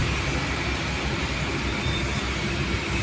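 A metro train runs on the Kathipara junction flyover on a rainy, dark day, heard as a steady broadband rumble and rush that holds constant throughout, with no voices.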